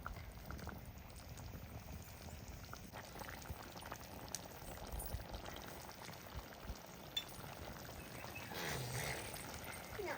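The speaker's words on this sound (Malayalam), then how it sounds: "ബീഫും ആ ഒരു ചാറിലേക്ക് എടുത്തിട്ട് നന്നായിട്ട് തിളയ്ക്കാൻ തുടങ്ങിയിട്ടുണ്ടേ" Beef in gravy boiling steadily for a beef roast, a continuous dense bubbling close by at a fairly low level, with no talk over it.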